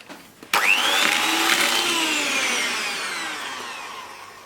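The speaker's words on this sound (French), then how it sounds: "Dans le saladier, je mets les œufs et le sucre. Et là, je fouette pendant environ 5 minutes." An electric mixer whisking eggs and sugar in a mixing bowl starts abruptly and whirs steadily and loudly, its pitch slowly sagging as the batter thickens, with no voices.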